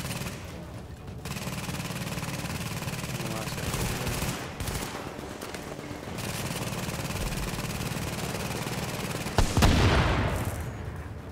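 Gunfire in The Division, fired through a wall, forms a dense, steady wash of shooting with one sharper, louder burst near the end.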